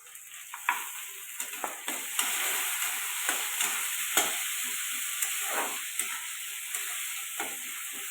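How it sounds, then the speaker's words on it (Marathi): Tomatoes and onion frying in a pan give a steady sizzle and hiss, broken by frequent spatula clicks and scrapes as they are stirred, close and alone without speech. "टमाटर चांगलं फ्राई होते"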